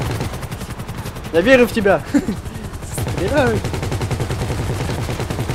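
Rapid, sustained machine gun fire in GTA Online rattles steadily through the whole stretch, with a voice speaking briefly over the bursts.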